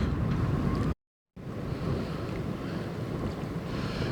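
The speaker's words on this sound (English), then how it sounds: "Got my head cocked so the wind doesn't blow my hat off." Strong outdoor wind buffets the microphone with a steady, rough rumble and hiss. The sound drops out briefly near the start, then continues unbroken.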